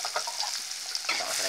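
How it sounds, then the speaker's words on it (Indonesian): Spice paste with hot chili sautéing in a pan for stir-fried cassava leaves, a close bright sizzle with small scraping stirs over a short moment. "dan kita tumis nih"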